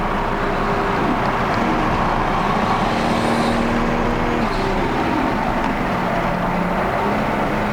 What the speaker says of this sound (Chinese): 我们来听一下它的直列6缸。